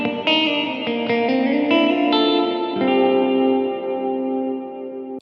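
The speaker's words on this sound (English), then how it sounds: "Do you hear that reverb decay like shining up through the note?" Electric guitar through a JHS 3 Series Reverb pedal with the reverb turned up halfway: a handful of picked chords and notes blend into a long, shimmering wash that sustains and slowly decays.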